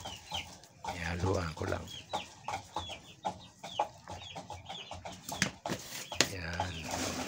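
Chicks clucking and peeping as they peck at mixed feed of rice and vitamins, a busy run of short, repeated calls close by, with a person talking quietly over them.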